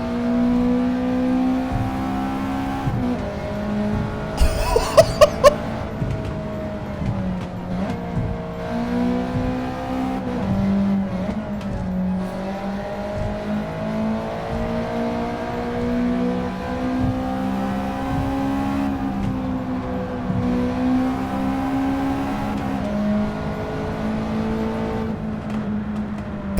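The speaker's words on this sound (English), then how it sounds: "Let's go to semi-racing exhaust." A Gran Turismo 7 race car engine with a semi-racing exhaust roars continuously with a throaty, aggressive exhaust note, revs rising and dipping repeatedly, with a brief burst of sharp crackles early on.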